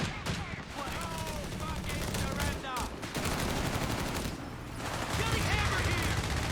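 An aircraft strafing run in a Company of Heroes 3 2v2 match sprays dense, continuous gunfire and impacts across the battlefield, with a commentator talking over the barrage.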